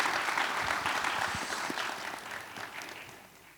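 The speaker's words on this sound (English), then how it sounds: "So applause for the panel." An audience applauds a panel, with clapping from a moderate crowd that starts full and gradually fades away, moderately distant and somewhat quiet.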